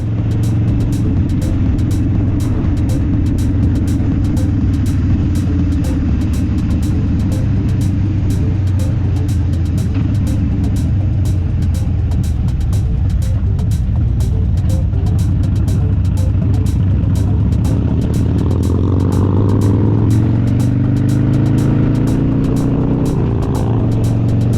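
Harley-Davidson motorcycles on a HOG Auckland Chapter group ride along the country back roads of Muriwai give a loud, continuous engine rumble that swells gently with the throttle, with steady wind buffeting close to the rider.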